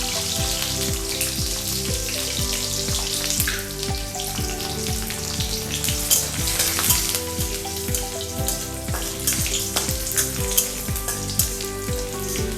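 Seven or eight garlic cloves frying in hot oil, a loud close sizzle with rapid spitting crackles and some stirring, steady for the whole stretch with no voices.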